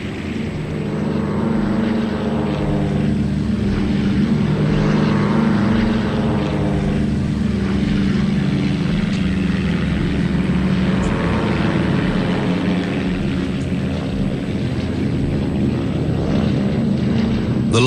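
A steady, loud drone of a Liberator propeller aircraft in flight, a continuous engine roar with a low throbbing tone and no pauses throughout.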